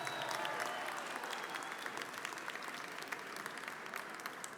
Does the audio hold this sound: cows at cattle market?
no